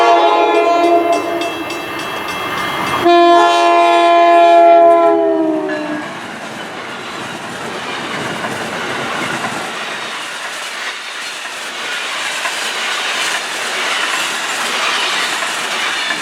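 An Amtrak AEM7 electric locomotive in Train Sim World sounds its Nathan K5LA horn, loud multi-tone blasts for about six seconds, then the train rolls on with steady rail rumble and clatter.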